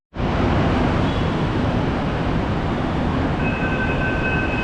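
A Mumbai Metro train running, with a loud steady rumble of wheels and carriage noise throughout and a faint high whine rising near the end.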